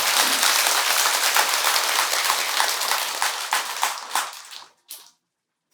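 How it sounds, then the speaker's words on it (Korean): A crowd at a Buddhist dharma service at Beomeosa temple applauds the temple choir: thick, lively clapping that thins into scattered claps, stops, then a last few claps trail off. "우리 합창단에서 박수 한번 부탁드립니다"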